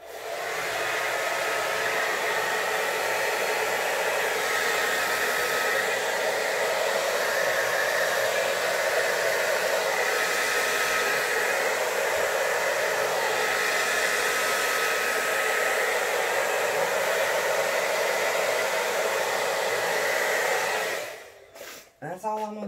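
An electric blower runs steadily and loudly, blowing out an acrylic paint pour, a continuous airy roar that holds for about twenty seconds before it switches off with a short clatter.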